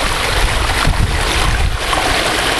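Water rushing steadily over the rocks of a lined backyard waterfall being repaired for a leak, a dense, loud wash of noise that runs on without a break and with no voices.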